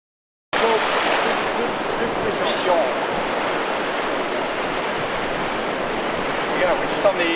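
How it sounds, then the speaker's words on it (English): Ocean waves roll and break against a reef on the ocean side of a bonefish flat, a steady broadband wash of surf with wind buffeting the microphone throughout. "The ocean side, see with these waves, and we can break it down where it hits the reef there."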